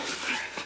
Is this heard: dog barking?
yes